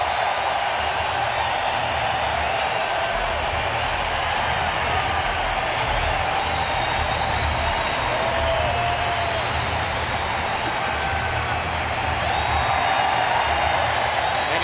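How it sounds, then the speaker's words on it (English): A baseball stadium crowd at a 2013 Cleveland at Kansas City game rises in an ovation for the pitcher leaving the mound: a dense, steady roar of cheering and applause that holds throughout. "He's going to get a huge ovation as soon as he leaves the mound."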